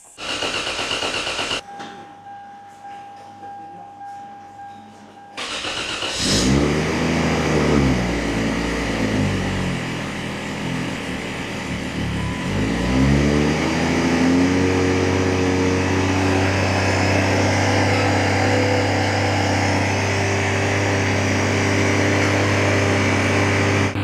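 A car engine turned over with the key after a rebuild with turbo, a short cranking burst then a rough start settling into a loud, steady idle, with a brief electronic beep earlier.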